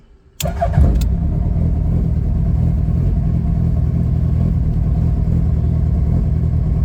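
A Hayabusa engine fitted in a 1967 Toyota Publica cranks briefly and fires up, then settles into a loud, steady, close idle that continues to the end without talk.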